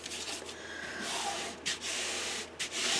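Fabric pressed onto a mini album cover is rubbed down by hand, giving a soft, close, steady scuffing hiss with a couple of brief pauses.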